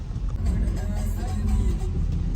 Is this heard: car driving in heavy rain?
yes